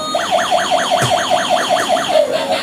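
A toy ambulance gives out a loud electronic siren that rises and falls quickly and steadily over and over, close by with no talking over it.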